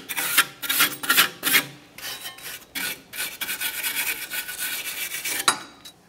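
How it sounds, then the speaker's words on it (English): Small wire brush scrubbing debris from the parking brake area of a 2010-2013 Kia Forte Koup, a close, raspy back-and-forth scratching in quick irregular strokes that fades toward the end. "We've got a little wire brush. We'll try to remove as much of this debris as possible."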